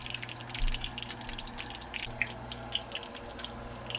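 Fried beef, smoked turkey and shrimp sit draining after frying, giving a steady wet hiss with scattered tiny crackles and drips at close range.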